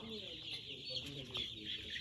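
Hens clucking in short, overlapping calls, moderately close, with a steady background hum.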